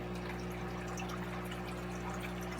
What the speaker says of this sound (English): some in little streams, some are drips, some are slow drips